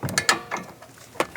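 A wrench working a 19mm nut off a Mustang coilover strut bolt, a few quick close metallic clicks and ratcheting taps over a faint background.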